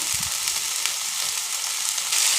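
Garlic, onion, turmeric and salt fry in a pan for a potato and pointed gourd curry, giving a steady close sizzle with faint stirring and no talk.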